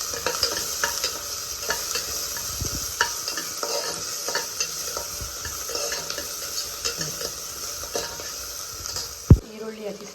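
Spices and ingredients fry in a pan with a continuous close sizzle, punctuated throughout by repeated light scrapes and clinks of a stirring utensil and a sharp knock near the end.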